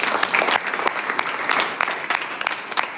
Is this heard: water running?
no